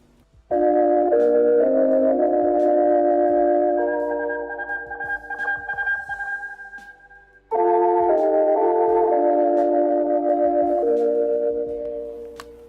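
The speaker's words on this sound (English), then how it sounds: "at 6 a.m. there'll be music, national anthem start playing" The Soviet national anthem, a solemn orchestral piece, plays on 1980s Soviet radio at steady loudness, with a brief pause in the middle before the music resumes; a slight tinny, broadcast quality.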